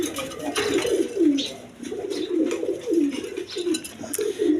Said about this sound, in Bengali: এক পেয়ার গিরিবাস কবুতর আছে হাই ফ্লাইং গিরিবাস কবুতর